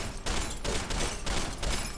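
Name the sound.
machine gun arm firing, from video game Deus Ex: Human Revolution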